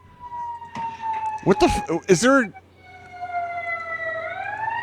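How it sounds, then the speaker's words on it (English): A passing fire truck's siren wails in long rising and falling tones, clear of the talk at first, then partly covered by several voices speaking at once before it carries on alone. "That was a fire truck, not a police car."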